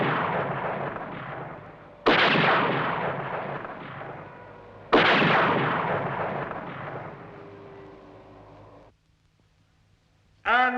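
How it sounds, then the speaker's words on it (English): Gunfire in a TV show: two heavy, booming shots, each followed by a long decaying rumble, then a short quiet gap and the start of another sharp burst. "And what are you shooting at"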